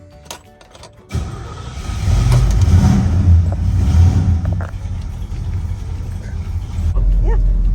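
A 1964 Chevelle Super Sport with a Muncie M21 four-speed, engine running while driving, quiet at first and then surging into a loud, rough roar that holds and pulls, with a brief voice near the end.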